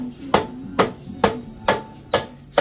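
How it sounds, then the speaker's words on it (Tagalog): A steel hammer knocks out a center stand pin with five sharp, evenly spaced metallic blows, loud and close, with no talking. "Yung bakal na martilyo yung gamitin nyo."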